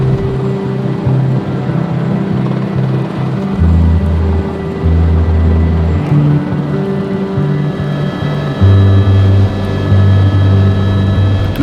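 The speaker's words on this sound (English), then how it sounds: "For John and me, this is the first time we had ever flown in a helicopter." Steady loud drone of a Robinson R66 helicopter heard from inside the cabin in flight, a continuous rotor and turbine roar with shifting low tones and no talking.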